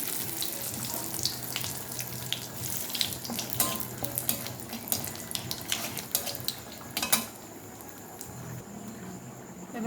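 Four or five dried red chillies and bay leaves crackle in hot oil while tempering for a vegetable khichuri. A busy, continuous sputter of small pops comes through close, with one sharper burst partway through before it settles softer.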